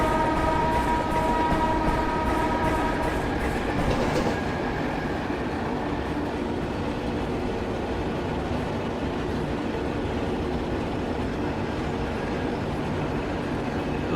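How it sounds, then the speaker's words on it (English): A parcel train in an Indian train simulator game rolls past a level crossing with a steady, loud, dense rumble, a repeated clicking over the rails at first, then a continuous grinding roar. "So again the parcel train on crossing."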